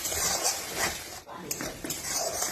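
Spoon scraping and clinking in a pan while masala with sugar and slit green chillies is stirred and fried down until oil separates, a steady close-up kitchen clatter with a brief pause midway.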